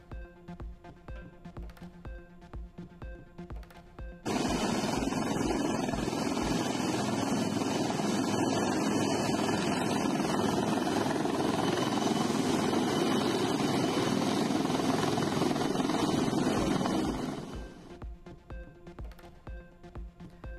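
An Indian Air Force rescue helicopter flies over during a flood rescue near the Soochipara waterfall at Mundakkai, a steady loud rotor and engine roar that rises abruptly, holds for about thirteen seconds, then fades away, with no talk.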